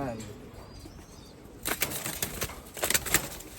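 Racing pigeons at a loft beat their wings in a burst of loud, close flapping after a quiet start, with rapid fluttering strokes and faint voices nearby.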